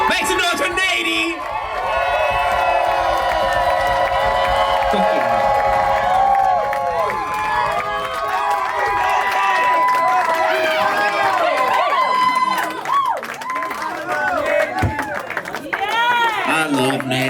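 A concert crowd roars, whoops and cheers continuously at a show, loud and dense throughout, with music and voices mixed into the noise.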